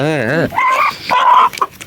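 Close chickens squawking and clucking in a few loud, warbling bursts while digging around, with a short sharp cluck at the end.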